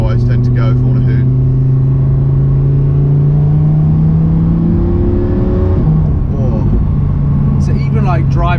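Lamborghini Huracan driving on a country road, its engine a steady loud drone that climbs gradually in pitch, then dips and rises again near the end, with brief talk at the start and close.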